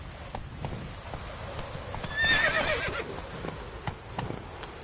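Galloping horse in The Witcher 3: Wild Hunt, steady hoofbeats under a loud neigh midway, heard close with no talk.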